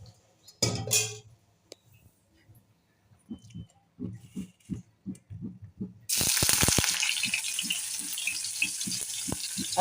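Paneer being put into hot oil: after a few kitchen clinks and knocks, a sudden loud sizzle bursts in and holds steady, close by, with light tapping over it.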